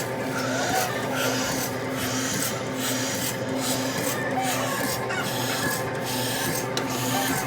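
A milking machine hums and hisses as its suction builds on a miniature Jersey cow, a steady close rasping drone with faint rhythmic pulsing and no talk.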